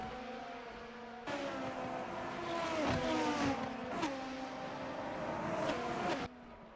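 Race cars in a sim-racing league event at the Hungaroring roar steadily with rising and falling engine pitch, several machines passing close by with sharp gear-change surges over a continuous background drone.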